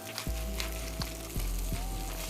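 Vegetables tossed into a hot pan for chicken teriyaki, a steady loud sizzle with a few distinct stirring scrapes and clacks, no talking.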